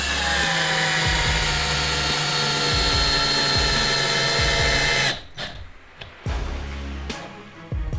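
A Dexter Power 14.4V cordless drill drives a giant 10x140 mm Torx-head washer screw into wood, whining loudly and steadily for about five seconds, then stopping and giving a couple of shorter bursts.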